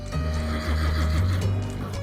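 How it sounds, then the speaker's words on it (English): A horse whinnies with a rising then wavering neigh, loud and close, lasting about two seconds over faint background noise. "along came the coal-black horse with eyes of fire"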